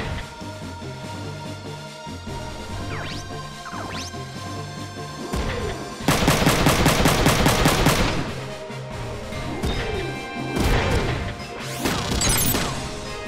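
Machine-gun fire in the tactical game Front Mission 3 rattles over synth music: scattered impacts and short bursts build into a dense, loud two-second volley, then lighter hits trail off.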